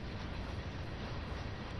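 A Class 150 diesel multiple unit in the Train Sim World 3 video game, giving a steady, continuous low rumble of running gear and engine with no pauses or talk.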